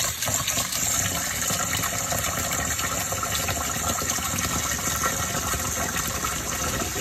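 Water pouring and gushing out of a pot of rinsed rice as it drains, a continuous splashing rush close by with no voices.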